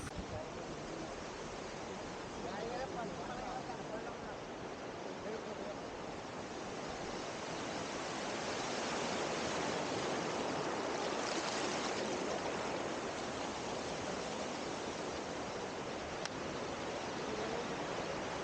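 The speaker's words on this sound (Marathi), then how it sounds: "बारका धबधबा तेवढाच" A small waterfall at Amboli ghat, heard as a continuous broadband rush of falling water, steady and moderately distant, swelling slightly toward the middle with no voices over it.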